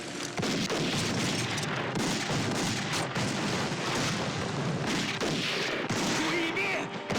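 Dense battle gunfire and artillery booms from a war drama set during the defense of Changsha, sustained rapid shots and heavy blasts layered close and loud, with shouting voices mixed in.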